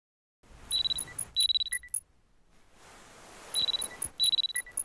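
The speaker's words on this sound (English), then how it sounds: "The alarm is ringing." A game alarm rings in two bursts of rapid, high electronic beeping tones, separated by a quieter stretch of background hiss, fairly close and with no talk over it.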